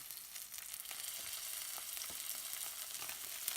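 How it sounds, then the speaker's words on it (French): Cèpes sizzle in a hot frying pan, a steady quiet crackle with a few small pops throughout, no voices. "Dans une poêle chaude, vous y disposez vos cétos afin de les cuire"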